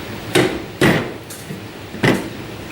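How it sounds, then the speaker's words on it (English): Plastic rubber hammer tapping an under-counter garbage drawer into place, three sharp, close knocks at uneven intervals with a fainter tap between them, alone. "This is kind of a plastic rubber hammer."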